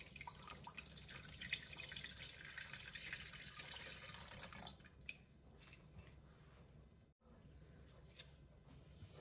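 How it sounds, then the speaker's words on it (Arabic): Water runs from a tap into a baking tray to set up a bain-marie for baking crème caramel, a steady close gush that stops about halfway, then faint drips and clinks. "غادي نكب فيها الماء، نكب الماء هنايا"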